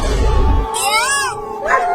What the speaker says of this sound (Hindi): तो इसीलिए ये बिल्ली भी रो रही है।